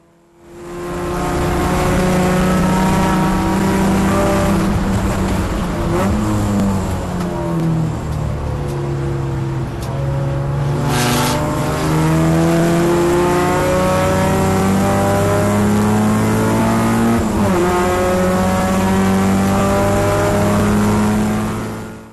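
A race car, a turbocharged Volkswagen Golf, runs flat out in a circuit race, its engine screaming loud and close through repeated upshifts and rising revs, with a brief lift and a few gear changes over about twenty seconds.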